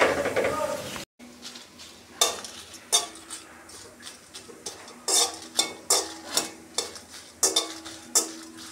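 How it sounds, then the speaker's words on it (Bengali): Dried chilies and nigella seeds frying in a little oil, with a run of sharp scraping and clinking hits from a utensil against the pan, roughly one per second, over a faint steady sizzle. "এখন আমি মরিচ, শুকনো লঙ্কা আর কালি জিরাগুলো তেলে নিব"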